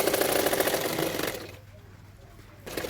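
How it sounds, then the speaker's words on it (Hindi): A sewing machine stitches the sides of a peplum top with a fast, steady mechanical whirr that stops for about a second before starting up again. "सिर्फ किनारे किनारे पे सिलाई कर रही हूँ,"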